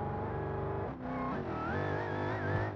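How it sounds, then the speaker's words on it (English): A loud car engine in the BeamNG.drive video game, a 1,200 hp nitrous Dodge Challenger Scat Pack, revs hard with a rising high-pitched supercharger whine layered over the roar, continuous throughout. "You can hear that supercharger whine."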